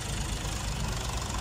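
The engine of a Saturn ST-2501 Chinese mini tractor with mounted implements idles steadily and moderately loud, a continuous low rumble with no talking over it.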